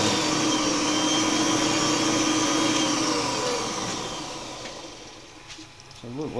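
A lathe turns a part down toward 55 millimeters, a steady whining machine drone with tonal cutting hum that fades and trails off near the end, with speech in the background.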